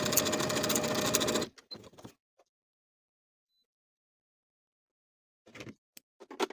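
A sewing machine stitches blouse darts in a fast, steady burst lasting just over a second, followed by a few faint clicks and handling noises, then quiet.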